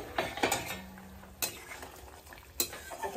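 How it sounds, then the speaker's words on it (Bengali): Metal lid lifted off a pot of simmering Bengali fish curry with aar and tangra fish and potatoes, a few clanks and scrapes of metal over a steady bubbling sizzle, close and fairly loud. "ঢাকনাটা খুলে দিয়ে"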